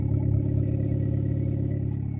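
A 1995 Honda Civic idles with a steady, low exhaust drone and faint mechanical clatter, close and continuous with no revving.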